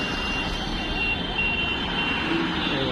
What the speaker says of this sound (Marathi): अजून बुलडोजर संपलेच नाही बघा. म्हणजे बुलडोजर येतं जात आहे.